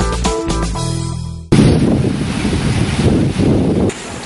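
Strong wind roars into a microphone in stormy weather, a loud, steady rushing blast that takes over right after a brief burst of music and holds for several seconds.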